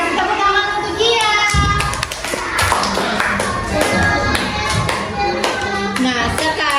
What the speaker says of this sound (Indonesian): Oke, kasih tepuk tangan untuk Kia.